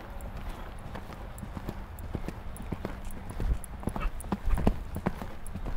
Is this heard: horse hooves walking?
yes